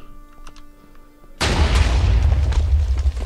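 A TNT block explodes in Minecraft with a sudden, loud blast that hits after a quiet stretch and then rumbles on as a dense, sustained roar to the end.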